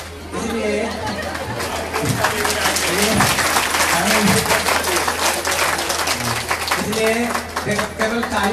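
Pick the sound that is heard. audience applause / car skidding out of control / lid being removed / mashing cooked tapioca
audience applause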